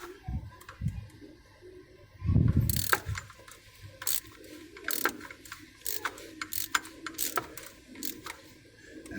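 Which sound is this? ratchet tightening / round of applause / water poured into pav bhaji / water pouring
ratchet tightening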